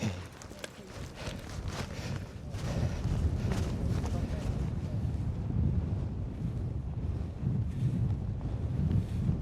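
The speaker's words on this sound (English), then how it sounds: "Certainly a windy one." Strong wind buffets the microphone on a Lake District hill along the Coledale Horseshoe, a continuous loud rushing roar with gusty surges throughout.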